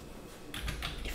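Keyboard typing in a quiet room: a short run of three or four soft key clicks coming in after a brief pause, near and fairly faint.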